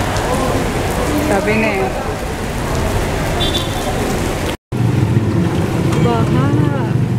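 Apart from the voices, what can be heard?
heavy rain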